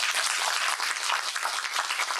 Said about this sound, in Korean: 율려 지부장님 박수 한번 해주세요